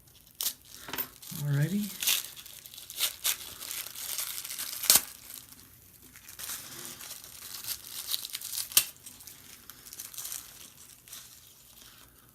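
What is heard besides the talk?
tearing open taped-up cardboard packaging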